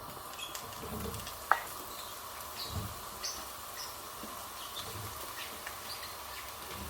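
Mushrooms frying in a pan for bibimbap give a soft, steady sizzle with scattered faint pops and clicks, heard close and quiet with no talking.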